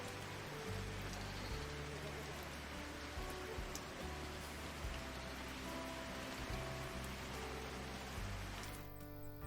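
Rain falls in the farming video game Farm Manager 2021, a quiet, steady patter that continues throughout before ending abruptly.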